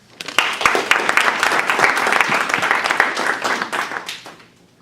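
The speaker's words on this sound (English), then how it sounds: "Clap your hands." An audience claps steadily and loudly for several seconds, a dense patter of many hands that fades out near the end.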